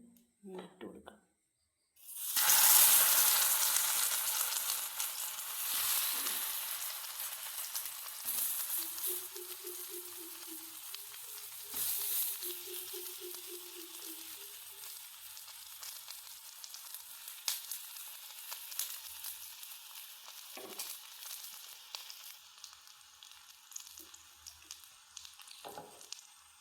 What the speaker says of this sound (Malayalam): കുറച്ച് നെയ്യ് ഒഴിച്ചു കൊടുക്കാം. എന്നിട്ട് പഴം നമുക്ക് ഇട്ട് കൊടുക്കാം.